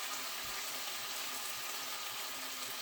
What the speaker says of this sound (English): And we're going to pour in the broth.